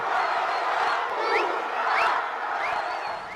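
A large outdoor political rally for Hugo Chávez in pouring rain, the crowd cheering and shouting in a steady, swelling roar with scattered whoops and whistles rising above it, loud and continuous throughout.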